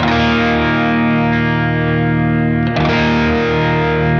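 An electric guitar runs through a Friedman Small Box overdrive pedal on its low gain setting, with a sustained, lightly distorted chord ringing loudly and a fresh strum near the end.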